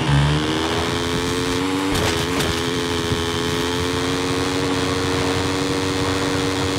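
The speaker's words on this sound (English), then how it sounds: "he's out running around with his moped" A moped engine in the video game Generation Zero drones steadily with a constant, buzzing tone, fairly loud and close throughout, briefly shifting near the start.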